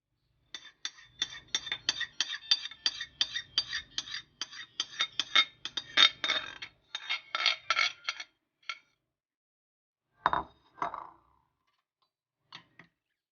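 Sea beans being tossed with dressing in a bowl give off a run of quick clinking utensil taps against the dish, dense at first, then sparse, with a couple of louder knocks near the end.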